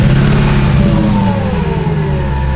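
A Mercedes V8 engine revving loudly up close, deep throaty rumble with pitch sweeping down as the revs fall back.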